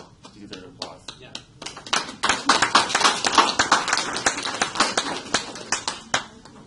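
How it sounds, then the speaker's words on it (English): A small group claps in an office setting, starting with a few scattered claps that build into a steady run of sharp, close hand claps, with voices talking over them. "You deserve applause."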